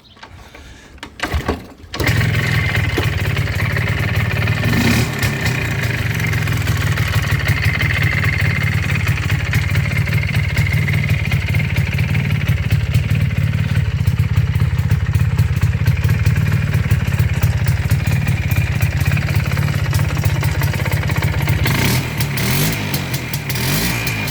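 An MZ ES 250/2 Trophy motorcycle engine idles steadily and loudly with a low mechanical rumble and clatter after a brief start, holding a constant pace throughout.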